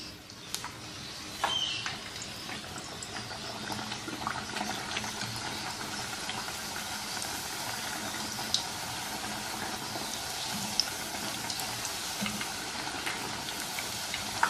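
Potato puri fry in hot oil, giving a continuous bubbling sizzle with occasional sharper pops and crackles, close and moderately loud, with no speech over it.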